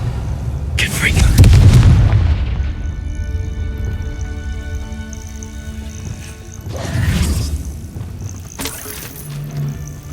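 Blasting-spell explosions from the Hogwarts Legacy video game: a loud low boom swelling near the start, a second deep blast around seven seconds, with game ambience and a steady hum filling the space between.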